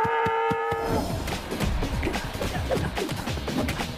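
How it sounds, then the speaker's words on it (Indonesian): A cow gives one short, close moo, followed by a jumble of clattering, busy noise. "Wow, ada hewan sapi."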